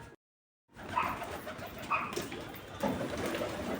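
Madras pigeons coo in soft, low repeated calls against a busy, rustling background while being fed rice, after a brief moment of silence.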